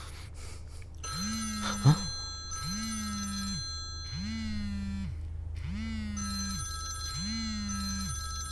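A telephone rings five times in a steady, evenly spaced pattern, each ring a sustained electronic trill, heard up close over a low background hum in a Tamil crime thriller.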